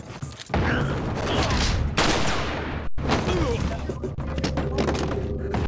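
Gunfire in Resident Evil 4 as a player shoots portraits on a wall, with loud repeated shots and bursts over game ambience and a steady low hum, one sharp break near the middle, and talk running throughout.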